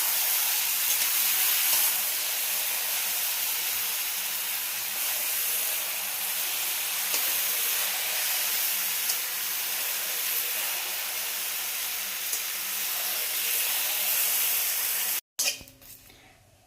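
Fish head and taro leaves cooking in a pan give off a steady, loud steamy hiss that holds for most of the stretch and then cuts off abruptly near the end.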